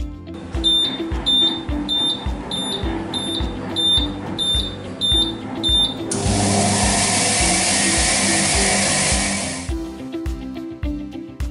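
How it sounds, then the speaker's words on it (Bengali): A goldsmith's magnetic polisher for jewellery gives a series of evenly spaced electronic beeps over a low rhythmic mechanical thumping, then switches to a loud steady hiss, and the beeps return briefly afterwards. "বিপ সাউন্ডের মাধ্যমে প্রক্রিয়াটি শুরু হয়।"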